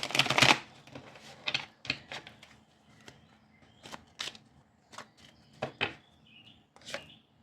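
A deck of tarot cards is shuffled by hand in a series of brisk, close, crisp riffles and taps spaced irregularly, with quieter handling in between and no voices.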